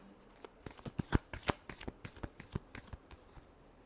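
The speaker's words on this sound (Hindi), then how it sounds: "last shuffle" Tarot cards being shuffled by hand, a quick run of crisp riffling flicks and soft slaps that come close and clear, with no voices over them.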